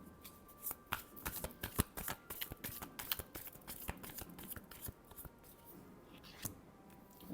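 Tarot cards are shuffled close up in quick, dense riffling bursts, crisp and fairly quiet, with no voice over them.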